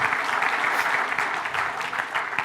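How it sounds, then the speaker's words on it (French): Dense, steady clapping from a conference audience during a round-table session, a sustained crowd applause with no break. "je voudrais que vous les applaudissiez très fort"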